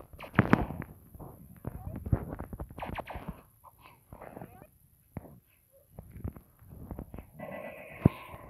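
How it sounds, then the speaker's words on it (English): Laser gunfire in a video game, a series of quick sharp zapping shots scattered through the clip amid game sounds, with a person talking over parts of it. "Someone's shooting. Was that a laser beam?"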